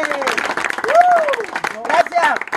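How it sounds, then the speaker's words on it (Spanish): An audience applauds at a birthday celebration on a TV show, with a steady patter of clapping running beneath a loud, excited announcer's voice throughout. "¡Un aplauso fuerte!"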